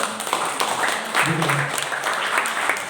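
A church congregation claps together in a brief, dense burst of applause, with a voice briefly audible over the steady clapping.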